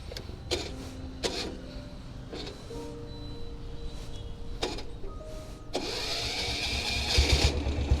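A diesel Royal Enfield Bullet motorcycle is kick-started during a group ride, with several sharp mechanical kicks spaced about a second apart before a steadier running roar builds near the end.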